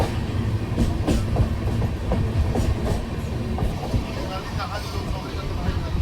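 The 12354 Lal Kuan–Howrah Superfast Express runs at speed with a continuous rhythmic clickety-clack of wheels on rail joints, loud and close, with some faint background voices.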